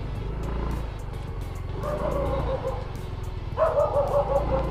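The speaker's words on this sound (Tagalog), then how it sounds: "Ang laki ng aso ni kuya." A large dog barks a few times over steady traffic and engine noise, the later barks louder and closer.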